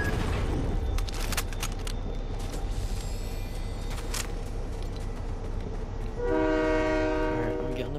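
A train with a loud sustained horn in the video game Fortnite, the horn blaring near the end over a dense rumble of moving rail cars and game effects.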